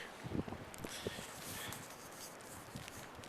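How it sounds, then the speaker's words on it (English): Steady outdoor wind on a lake rushing and buffeting against a microphone, with faint rustling and soft knocks underneath. "It's pretty windy out here on the lake."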